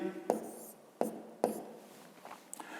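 Pen strokes writing out a fifth-grade math solution, with three sharp scratchy strokes near the start followed by softer, fainter scribbles; no talking.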